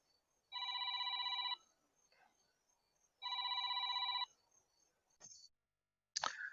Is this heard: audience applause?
no